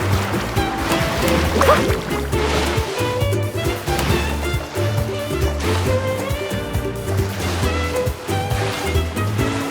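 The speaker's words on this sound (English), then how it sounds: "Carving waves!" Boat carving through waves in Genshin Impact: continuous surging, sloshing water and surf running throughout under a loud game soundtrack, with no talking.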